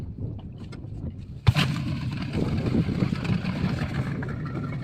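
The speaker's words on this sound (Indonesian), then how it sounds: "Mesin kita hidupkan." Outboard motor on a small boat started from neutral: a sharp catch, then a steady, loud engine drone running continuously with some wind buffeting over the water.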